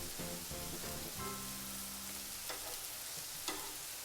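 Smash burgers cooking on a Steelmade USA flat top griddle make a quiet, steady sizzle, with a few faint scrapes and clicks near the start and a small tap toward the end.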